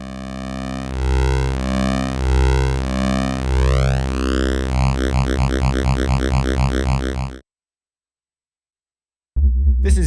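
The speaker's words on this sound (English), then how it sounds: "This is very apparent when shown on a sine wave, since sine wave has no harmonics and this is bending frequency, it's going to translate just to a pitch bend." A pure sine tone run through a phaser-style frequency shifter, its pitch bending and sweeping with shifting sidebands for about seven seconds, then cutting to silence before the tone returns briefly at the end.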